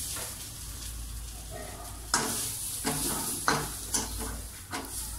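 Moringa leaves and onions sautéing in a pan give a steady close sizzle, broken by several sharp scraping strokes of a spatula stirring, with no talk.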